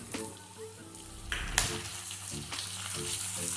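Onion, capsicum, corn and peas frying on high flame in a pan, soft crackling sizzle with a few clattering stirs and scrapes, close but fairly quiet.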